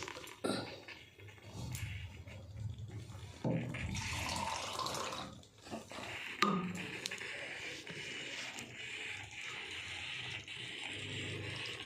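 Water poured into a simmering curry as it cooks, a running, splashing pour with some clatter, set against steady kitchen background; a voice speaks briefly.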